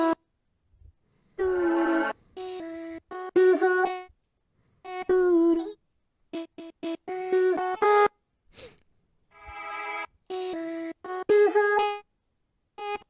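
Chopped vocal samples arranged into sections, bursts of harmonic sung fragments in short rhythmic phrases separated by brief silences, played back loud and clear with no speech over them.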